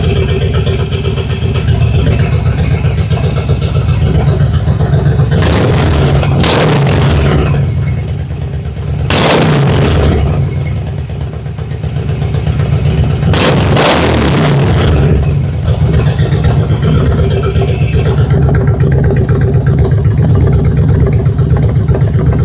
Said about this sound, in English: the bike is actually running a lot better than it was